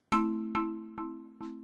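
Steel drum pattern programmed in FL Studio with reverb, four clear bright struck notes in an even rhythm, each ringing and sustaining into the next, clean and alone.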